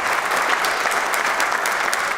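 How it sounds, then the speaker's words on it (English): Dense, sustained bipartisan applause for Governor Andy Beshear's speech fills the room, a large crowd clapping steadily and evenly without letting up. "Met with a long bipartisan round of applause."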